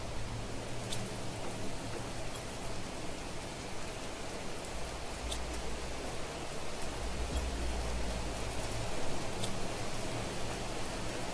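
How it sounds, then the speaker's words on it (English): Steady rain hissing through a video game world on The Planet Crafter, a dense continuous wash with faint crackles and a low rumble, no talk over it. "Sounds like it's proper raining."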